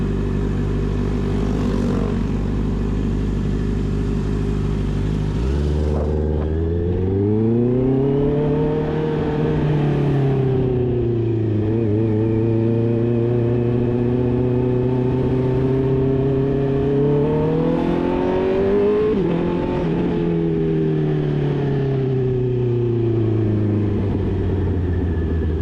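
A 2024 Honda CB650R E-clutch motorcycle engine runs loud and close, idling at first, then revving up and down repeatedly as the rider moves off and shifts through gears with rising and falling engine pitch.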